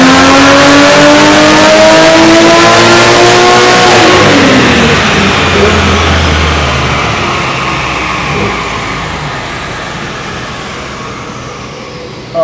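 A turbocharged 1JZ engine in a Toyota Cressida, fitted with a G30-660 turbo and running on E85, revs hard close by, then the pitch falls away as the revs drop off, loud and steady without talk.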